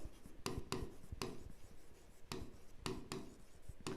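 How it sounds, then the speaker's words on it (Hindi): Pen writing by hand on paper during an accountancy lesson, soft close scratching strokes with short taps, quiet and alone with no talking. "अब इसका जो नरेशन है वो हम फटाफट से लिख देते हैं"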